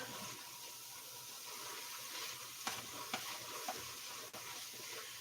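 A spoon stirring rabbit stew with rosemary in a pot, soft scraping and a few light knocks over a steady simmering, sizzling hiss.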